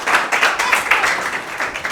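Studio audience applause on an Azerbaijani cooking-comedy show, a dense steady wash of many hands clapping close by throughout, with no talk over it.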